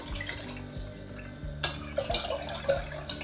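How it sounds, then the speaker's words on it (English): A batch of kombucha being stirred, liquid swishing close by with a few distinct drips and light clinks, no speech. "I'll just keep stirring it up and then we'll do a pH test."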